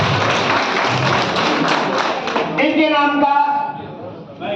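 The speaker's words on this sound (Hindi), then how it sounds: "जोरदार तालियों से आगे आ जा रही सर।" Applause at a teachers' association convention as new district office-bearers are announced, a dense wash of many hands clapping in a hall that carries on under a voice on the microphone and then tapers off.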